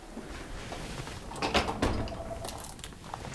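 A kitchen drawer being pulled open: a couple of short wooden scrapes and knocks in the middle, close and moderately loud over steady room noise.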